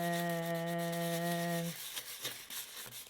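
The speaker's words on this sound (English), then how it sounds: "I'm just going to take some 220 sandpaper, and I'm just going to do like a circular motion." A steady hum gives way to soft, close rubbing strokes as 220-grit sandpaper is worked in circles over raised lettering on a dollar store decor item.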